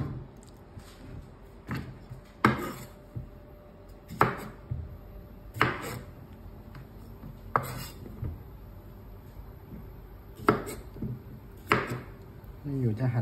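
A knife chops food into small pieces on a board while Thai dishes are prepared. Sharp, irregular knocks come one to two seconds apart, quiet and close by.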